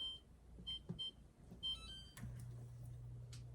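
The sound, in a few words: kitchen timer being set, beeping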